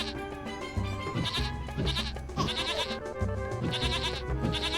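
Repeated goat bleats from the video game Tasty Planet Forever, sounding over busy game music and effects in a rhythmic, close, steady loop.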